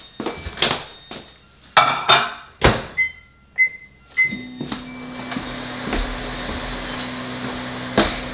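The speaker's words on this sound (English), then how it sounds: "Take your butter, put it in the microwave." A microwave oven heats butter: doors and dishes clatter and beep, then a steady low hum runs as the oven operates, with a few knocks over it.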